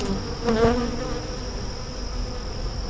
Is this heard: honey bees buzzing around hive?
yes